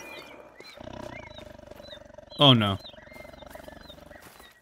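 A tiger in the video game theHunter: Call of the Wild lets out a loud, short growling roar midway, rising over steady background ambience, with a person talking briefly before it.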